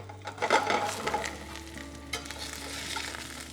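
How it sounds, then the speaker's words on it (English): Beet slices laid into a pan with a little oil give a steady, close sizzle with a few light clatters at the start, then settle into an even hiss. "A little bit of oil. So we're gonna lay our beets in there."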